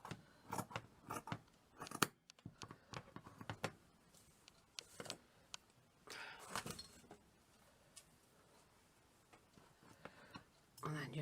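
Scissors trim cushion fabric for a shabby chic vintage cushion, making bursts of close, crisp snips with pauses between them while a voice talks at times.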